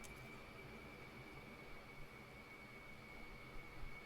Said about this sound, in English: right now I'm gonna press and hold a bit of X so the engine starts cranking up